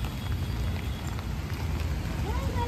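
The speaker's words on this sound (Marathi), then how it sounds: "पाऊस दिसतोय का?" Rain falls outside as a steady, even hiss of drops that holds throughout, with a voice briefly audible near the end.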